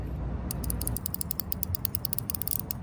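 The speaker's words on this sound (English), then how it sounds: "first thing I did was test the spin of the ratchet. Kind of like a bezel on a nice watch, listening for crisp, sharp clicks of the teeth" A 72-tooth DuraTech anti-slip ratcheting wrench being spun, giving a rapid, steady run of crisp, sharp metallic clicks, close and clear with no talking.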